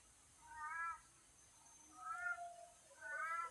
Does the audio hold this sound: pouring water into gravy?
no